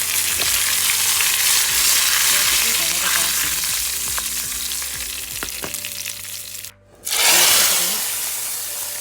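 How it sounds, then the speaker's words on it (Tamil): Mustard seeds temper in melted ghee for a Tirunelveli sodhi, a close, loud frying crackle with scattered pops that cuts out briefly, then resumes. "நெய் மெல்ட் ஆயிடுச்சு. கொஞ்சமாக கடுகு தாளிச்சிக்கலாம்."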